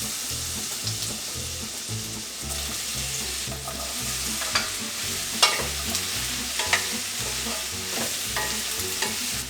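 Apples frying in browned butter in a pan, a constant close sizzle with intermittent clicks and scrapes of stirring throughout, no speech.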